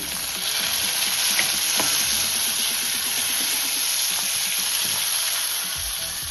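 Browned onions and chopped tomatoes fry in a pan with a loud, steady close sizzle and occasional soft stirring scrapes, no voices.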